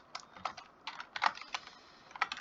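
Code being typed on a computer keyboard while writing a Java program, quiet irregular clusters of close key clicks with short pauses between bursts.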